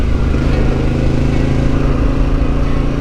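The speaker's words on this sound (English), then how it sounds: "Adventure bike on gravel." An adventure motorcycle riding on a gravel road, its engine droning steadily and loud close to the rider, with no talk.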